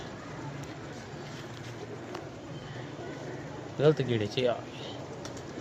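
A brief burst of low pigeon cooing rises for about a second as pigeons land in the dark, over steady background noise, with people talking nearby.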